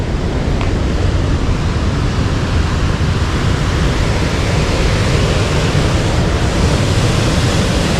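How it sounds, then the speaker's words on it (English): Water roars steadily through the open spillway at Lake Hume, a loud, unbroken broadband rush with no breaks or variation. "So this spillway's open."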